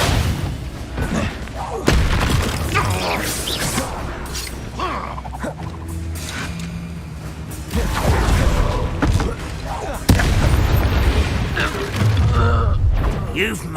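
Confringo spell blasts in Hogwarts Legacy, several sharp explosive booms and crackling impacts scattered through a fight, loud and close, with game voices and grunts in between.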